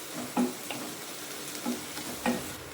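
Curry leaves and green chillies frying in a pan with salt, a steady close sizzle marked by a few soft, evenly spaced scrapes of a spoon stirring.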